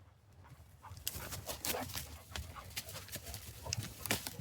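Dogs on a forest walk over icy ground pant and move about up close, with scattered footfalls and rustling, breathing bursts recurring irregularly throughout.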